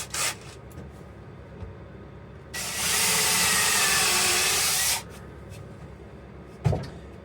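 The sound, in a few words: drilling a hole in wood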